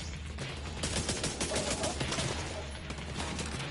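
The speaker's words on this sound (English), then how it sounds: "Oh boy, getting shot, getting shot." Sustained gunfire in The Division 2 video game, bullets striking the player in dense, overlapping bursts that stay loud and close throughout with no talk over it.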